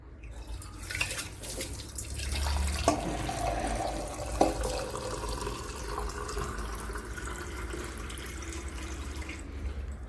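Tap water runs into a container indoors, a steady close trickle and splash with a couple of sharp knocks, continuing evenly before cutting off at the end.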